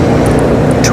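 BMW E90 335i twin-turbo car at a dragstrip, a loud, steady engine roar filling a short moment, close and continuous.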